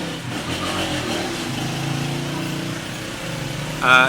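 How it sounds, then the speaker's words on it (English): A loud motorcycle passes close by, its engine droning steadily for several seconds with no talk over it. "Hang on, loud motorcycle."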